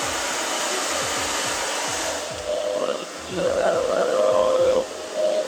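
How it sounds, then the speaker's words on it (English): A hair dryer blows steadily on a woman's short pixie-cut hair during a salon haircut, a loud continuous airy roar whose pitch and strength shift slightly as the nozzle moves around the head. "Some people like to blow dry it on low, depending on how curly and thick your hair is."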